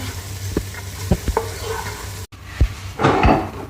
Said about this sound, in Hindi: अब इसमें हम छोले डाल देंगे।